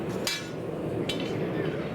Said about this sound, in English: I got a little excited with the hammer.